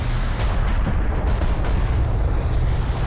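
Missile barrage and explosion in the real-time strategy game Homeworld: Deserts of Kharak, a dense, loud, continuous rumbling blast lasting a few seconds.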